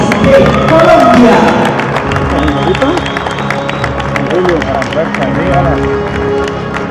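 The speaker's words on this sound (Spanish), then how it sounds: "Un fuerte aplauso para la señorita Yadenis Amaris de Colombia." Crowd applauding a judo gold medalist at a medal ceremony, a dense roar of clapping and cheering mixed with babble and an announcer's voice over it.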